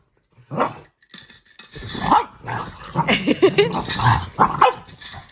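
A dog growls low and then lets out several sharp barks and yips in quick, uneven bursts, close by.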